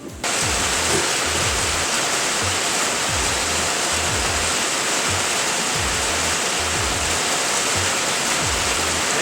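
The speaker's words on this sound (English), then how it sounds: "That rain is really coming down." Dense, steady roar of heavy rain pouring down without pause, with a faint rhythmic low thumping underneath.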